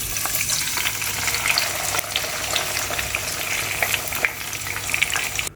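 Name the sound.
mustard greens saag sizzling with desi ghee tempering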